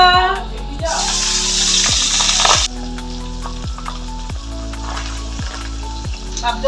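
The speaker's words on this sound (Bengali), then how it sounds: "পাবদা মাছ ভাজা হয়ে গেছে" Pabda fish frying in oil in a kadai, a steady loud sizzle with a brighter burst early on, punctuated by regular low rhythmic thumps from background music.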